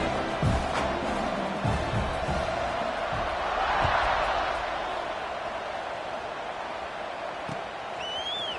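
A stadium crowd in the College Football 26 video game roars steadily throughout with a broad swelling cheer midway, loud and continuous, with a commentator's voice speaking over it.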